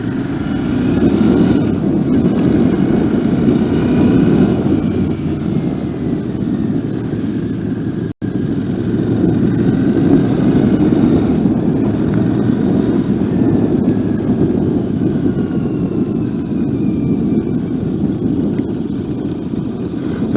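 Royal Enfield Interceptor twin-cylinder motorcycle engine running, a steady low throbbing rumble held close and loud for the whole stretch, with a brief dropout partway through.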